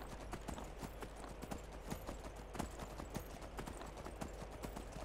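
Horse hooves clip-clop at a steady trot in Skyrim, a quick continuous rhythm of sharp hits over a soft ambient bed, moderately close and alone without speech.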